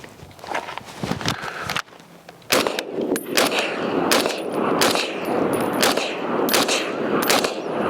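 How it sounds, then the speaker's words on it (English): A Springfield Armory M1A SOCOM 16 rifle fires roughly ten rapid rounds at an outdoor range, each shot a sharp, loud crack in quick irregular succession, preceded by a short quieter pause. "I'm gonna do a mag dump of like 10 rounds real quick"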